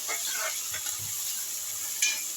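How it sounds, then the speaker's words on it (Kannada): Tomatoes fry in a pan for biryani, giving a steady hiss and sizzle with a few soft scrapes of stirring, close and fairly quiet. "ಟೊಮೆಟೊ ಎಲ್ಲ ಫ್ರೈ ಆಗ್ತಾ ಇದೆ"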